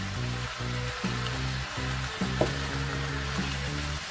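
Tofu dropped into a hot pan for a cabbage stir-fry gives a steady, close sizzle with a few sharp pops, over a low, droning tonal background that runs throughout.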